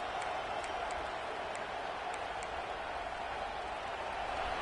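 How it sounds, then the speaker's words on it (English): Steady, dense crowd roar fills a large football stadium, a continuous wash of cheering noise behind the defense with no breaks and no clear voices standing out. "the crowd really making some noise now, trying to help out this defense"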